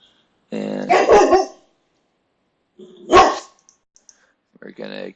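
A pet dog barking indoors during an Angular coding session, two short bursts of loud close barks separated by silence, with a third bark starting at the end, plus light keyboard clicks.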